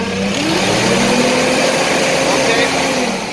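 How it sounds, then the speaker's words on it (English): A Toyota engine revs continuously at a steady, loud pitch, a dense mechanical roar held near the microphone without letting up. "Rev it up a bit."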